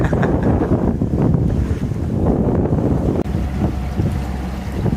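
A sailboat under sail heads toward Florida in a steady 10-knot breeze on a beam reach near St. Mary's Inlet, with loud continuous wind rush over the microphone and water washing along the hull throughout.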